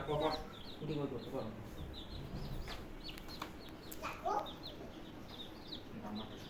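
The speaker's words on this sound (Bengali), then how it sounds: "ওটার ভিতরে মুরগিগুলো দাও তো" Chickens clucking and calling as they are put into a pen at home, repeated soft clucks and a few louder squawks heard fairly faint beneath people talking nearby.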